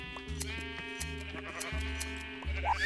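Sheep in Minecraft bleating in short repeated calls over a game music backdrop, several bleats spaced through the stretch at moderate loudness.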